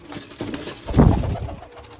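Pigeons cooing close by, a couple of soft throaty calls with a louder coo near the middle, amid light rustling.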